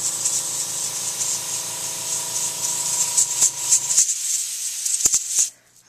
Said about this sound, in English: I'm just going to airbrush over the whole thing just to make it a creamy color.